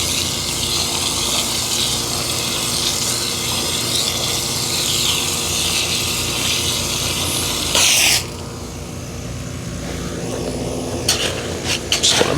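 Concrete for a generator pad being mixed by hand, with a continuous gritty scraping and churning that stops abruptly partway through, followed by quieter scrapes and a few sharp knocks.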